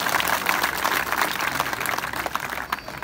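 An outdoor village crowd at a political gathering in Mansoorpur, Mukerian, claps in continuous, dense applause, loud and sustained throughout.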